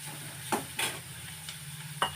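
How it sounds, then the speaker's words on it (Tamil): Onions sautéing in a pan, a low steady sizzle punctuated by a few sharp scrapes and taps of a spoon stirring, close and moderately quiet. "வெங்காயம், வதக்கிட்டே இருக்கேன்"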